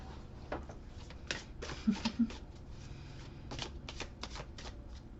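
Playing cards being shuffled close up, a series of quick riffling bursts and soft flicks repeating at an uneven pace, with no speech.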